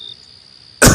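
An old monk in a Hindi horror audio story gives a single short, harsh cough near the end, loud and close after a near-silent pause.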